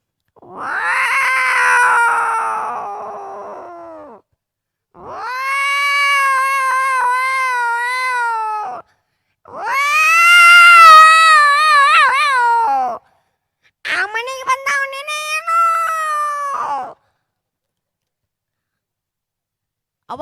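A human voice imitates two cats fighting on a rooftop at midnight, with loud, drawn-out yowling meows and caterwauls in four long bursts separated by short silences.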